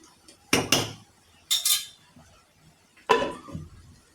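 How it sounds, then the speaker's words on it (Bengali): A metal lid is set onto a pot of chicken curry with greens: three sharp metallic clanks, two close together at the start, then another after a pause, near and loud in a quiet kitchen. "ঢেকে দেবো এখন।"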